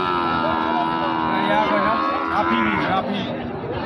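Bulls at a busy cattle market in Joypurhat, Pakra and Sahiwal breeds, give loud drawn-out moos with rising and falling pitch. Crowd chatter and voices run underneath the whole time.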